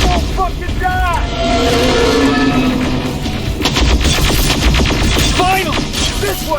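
Gunfire and rocket blasts from the video game Terminator: Resistance, with dense bursts of shots and booms layered over loud in-game shouting voices throughout.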